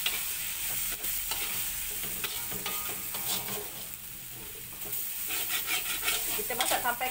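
Egg and bitter gourd stir-fried in a pan, a steady loud sizzle with scraping and stirring clatter running throughout, alone with no talk.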